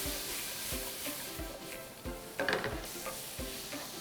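Tomato masala with coriander powder and salt fries in a pan, a soft sizzle under regular spoon scrapes and stirring knocks, close and fairly quiet, with a brief louder clatter midway.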